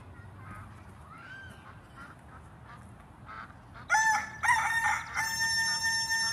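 A rooster lets out a loud, close crow in the second half, following softer background calls from other farm animals.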